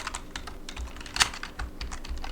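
Fingers tap on a computer keyboard in quick, uneven bursts of close clicks, with one louder keystroke partway through and no voices.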